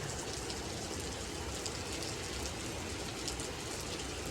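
Dense, steady rain drums on a corrugated metal sheet roof during the rainy season in Laos, a continuous soft patter with no voices.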